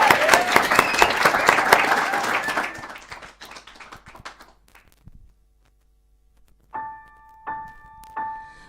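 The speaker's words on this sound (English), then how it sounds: "So give them a round of applause." A late-night talk show studio audience gives loud, dense applause that fades away after about three seconds, followed by silence and a few sharp, ringing electronic tones.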